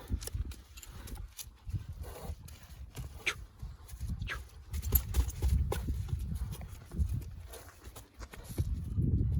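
Irregular hoof clip-clops of a large bay horse walking on firm ground, fairly close and steady throughout, with faint background murmur.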